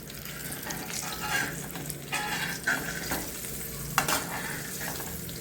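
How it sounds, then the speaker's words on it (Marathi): Surmai fish, Konkani style, sizzles gently in a pan over a low flame, a steady soft frying hiss with faint clinks and stirring sounds close by and nobody speaking. "बारीक गॅसवरच तळून द्यायचं"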